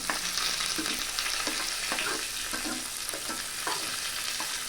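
Small shallots and curry leaves sizzle in hot tempering oil for a spinach curry, a loud, continuous crackling fry with occasional stirring scrapes through the whole stretch.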